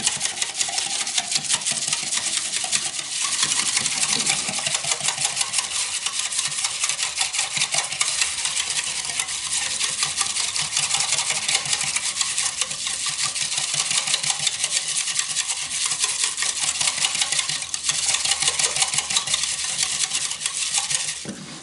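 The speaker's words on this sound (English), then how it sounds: "And then I just mix all this up with a whisk." Whisk beating fast and steadily against a bowl, mixing a venison jerky marinade with fresh ground black pepper, a continuous loud rattling stir up close that lasts throughout with no voices.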